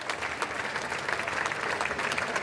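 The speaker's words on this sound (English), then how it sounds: "Now applause echoes as he leaves and heads towards Buckingham" A large crowd in London claps steadily as a new Prime Minister leaves for Buckingham Palace, the applause dense and slightly distant, with no pauses.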